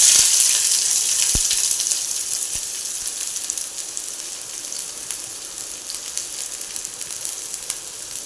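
Onion fries in oil with mustard seeds, a bright steady sizzle with a few sharp pops, loudest at the start and then settling into a softer, even hiss.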